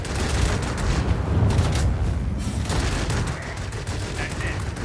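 Bursts of machine-gun fire from the long guns of a fully upgraded ME 209 fighter in World of Warplanes, dense rapid rattling fairly loud and continuous, with faint talk underneath.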